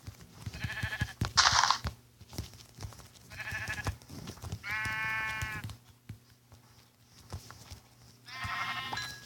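Several sheep bleats ring out in separate bursts amid crunching, clicking Minecraft Pocket Edition survival game sounds as the sheep is punched, with no talking, moderately loud and close.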